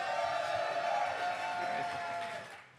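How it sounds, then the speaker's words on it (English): Live crowd in Chicago cheering a called-out name of Chicago Bears player Matt Forte, a dense sustained roar of voices that holds steady and then fades off near the end. "I'll just throw out some Bears, and I'll gauge it by how much you guys cheer."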